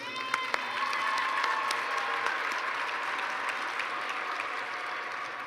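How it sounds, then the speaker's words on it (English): Graduation crowd in the stands at a high school ceremony giving sustained loud applause with scattered cheers, a dense even roar of clapping throughout. "Please give them a round of applause."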